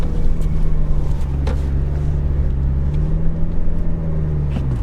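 A four-wheel drive car stuck off-road beside a Dakar Rally track, its engine droning steadily and loudly at a held rev with a constant low hum throughout.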